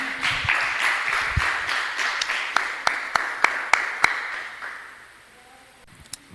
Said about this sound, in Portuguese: As palmas engrandecem Jesus